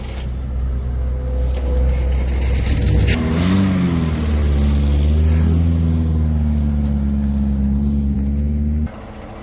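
A truck pulling into a West Tennessee woodyard, its engine rumbling loud and close with a rising rev as it moves in, then cutting off abruptly near the end.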